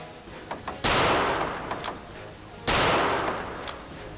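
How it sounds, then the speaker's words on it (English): Gunfire in Return to Castle Wolfenstein, with two loud, sustained bursts of shots coming from behind, each tapering off, separated by quieter sporadic game noise. "Being shot at from behind."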